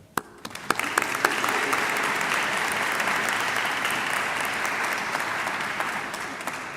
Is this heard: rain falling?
no